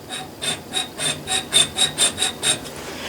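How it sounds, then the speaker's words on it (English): A three-corner file rasps across brass stock to mark a cut line, with about ten even back-and-forth strokes in a steady rhythm, close and fairly loud with no one speaking. "I like to take a 3-corner file and give it a few strokes to establish"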